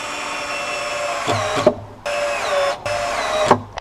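A power tool tightens deck fasteners: a steady whirring drone with three sharp cutoffs, each ending in a brief clunk, close and fairly loud; no talk.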